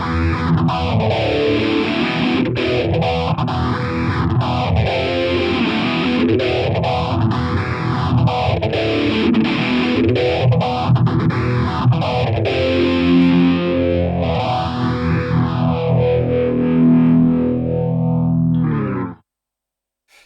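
Distorted electric guitar chords ring through a slow sweeping phaser, the tone whooshing up and down in regular waves before cutting off.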